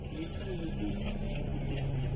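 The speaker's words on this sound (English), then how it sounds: "the phone rang" A telephone bell rings steadily through a dim, muffled room soundscape, a sustained trilling ring that continues for the whole moment at moderate level.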